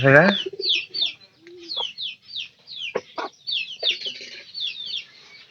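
Chickens cluck in short, repeated bursts across several seconds, kept outdoors on a farm, with a brief voice near the start and bird chirps mixed in at moderate loudness.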